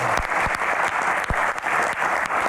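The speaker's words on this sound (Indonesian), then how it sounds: "Yang pertama kita berikan tepuk tangan untuk Kang Maman." A seated audience applauds a panelist being introduced at a Q&A forum on Hajj quotas and cartels, a steady wash of many hands clapping close and loud throughout.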